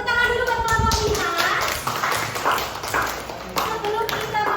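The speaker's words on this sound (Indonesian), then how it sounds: "tepuk tangan dulu buat kelompok 5" Schoolchildren in a classroom clapping for a group, a loud, ragged run of claps and taps with children's voices chattering and calling out over them.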